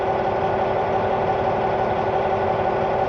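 A Cat 740 articulating dump truck's diesel engine idles loud and steady with a constant low rumble and droning hum, close and unbroken, with no voices.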